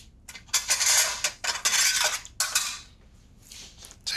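A metal teaspoon scrapes and scoops inside a hollowed tomato, producing close, bright scratchy bursts of clinking and rasping that come in irregular strokes with brief pauses between them.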